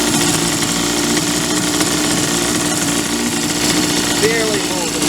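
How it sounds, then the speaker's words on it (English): A 1952 Champion hydro drive outboard motor on an Old Town square stern boat runs slowly in very low hydraulic mode, a steady rattling engine drone close by, with a voice briefly over it. "Champion hydro drive in very low hydraulic run."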